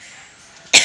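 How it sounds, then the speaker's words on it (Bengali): A woman doing household chores at home gives a single sharp, loud cough near the end, close to the microphone, after a near-silent stretch with only faint room hiss. "কাশি উঠে গেছে"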